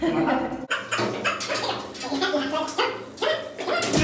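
A pet dog at a dog-washing station on an apartment amenities tour barks in repeated short bursts, close and fairly loud, mixed with busy background voices and room noise.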